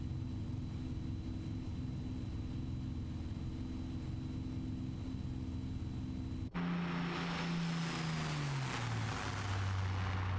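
A supercharged aircraft engine in Microsoft Flight Simulator 2024 holds a steady droning hum, then abruptly shifts to a louder, brighter roar with a falling whine, continuous and close with no voices.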